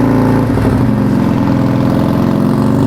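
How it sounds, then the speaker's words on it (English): A Harley-Davidson motorcycle engine pulls away from first gear under throttle, a loud, close, continuous throaty rumble rising as it accelerates, with no voices over it. "let her out and give her some throttle"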